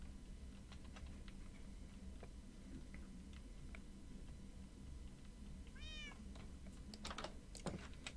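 A cat meows in the Minecraft video game, its short rising cry arriving near the end over a steady low hum, with scattered clicks of keyboard typing throughout.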